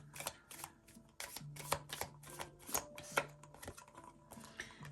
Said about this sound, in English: You can hear me shuffling the cards.